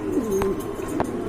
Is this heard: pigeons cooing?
yes